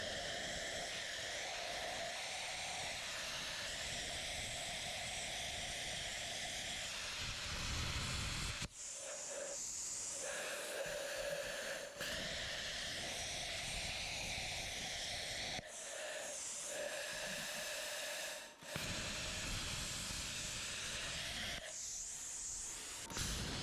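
A BestArc BTC500DP plasma cutter on its lowest setting cuts through metal with a continuous, moderately loud hiss and hum, broken by a few brief dips where the arc stops and restarts.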